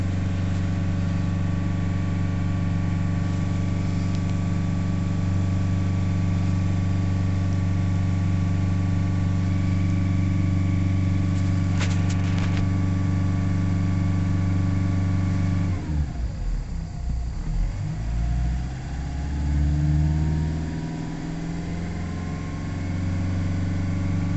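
A Nissan Navara D40 with the 2.5 DCI diesel, suffering power loss and hard starting, idles steadily up close and then revs unevenly, its engine note rising and wavering, with no talk.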